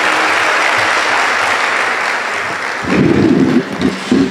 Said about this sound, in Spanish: para quien pide un fuerte aplauso, por favor